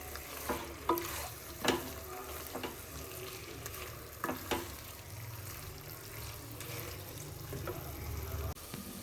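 Spoon stirring a paneer vegetable rice pulav mixture with mint and coriander in a pot over heat, scraping taps and soft steady sizzle continuing throughout, with no one talking.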